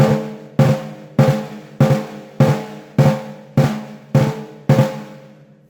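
Snare drum flams strike in a steady rhythm, about nine double-hit strokes, each a quick grace note then a main hit, close and alone.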